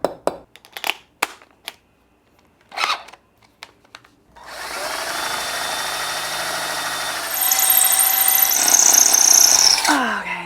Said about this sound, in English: This is not the most ideal drill to be drilling holes in this brick